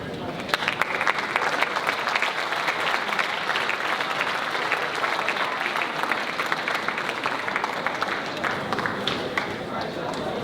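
A crowd applauds at a senior awards ceremony, a loud, dense, even clapping that runs unbroken from start to end.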